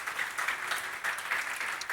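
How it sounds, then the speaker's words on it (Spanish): A church congregation applauds during a sermon, a fairly soft, steady patter of many hands clapping with a few small swells, no voices over it. "Démosle un aplauso al Señor"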